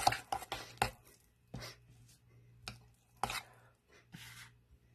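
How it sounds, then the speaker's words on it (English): A utensil mixes cheesecake ingredients in a bowl, sounding as a handful of sharp, irregular clacks and scrapes close by, separated by short quiet gaps over a low background hum. "now we're just gonna mix this"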